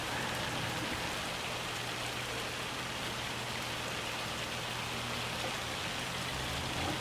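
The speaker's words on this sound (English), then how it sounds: "It's quite the hailstorm." Hailstorm pelting down in the Farming Simulator 25 video game, a dense, steady hiss of hard impacts that stays loud and unbroken throughout, with no talking.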